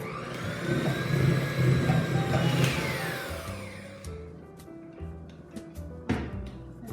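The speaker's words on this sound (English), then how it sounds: "I'm going to get my electric whisk" An electric hand whisk beats fairy cake batter with powdery ingredients on its lowest setting, a steady motor whir for about four seconds, then stopping and giving way to quieter intermittent bowl knocks and clatter.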